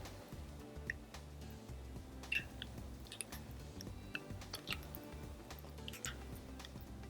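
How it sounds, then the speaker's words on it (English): Clarified butter slowly dripping through a filter into a jar, faint irregular ticks and drips over a low background hum. "just let the ghee continuously drip into the jar"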